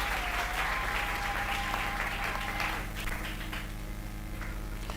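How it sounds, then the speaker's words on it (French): A church congregation claps loudly and continuously over a steady low hum, the applause thick and even throughout, easing slightly toward the end. "Applaudissez très fort"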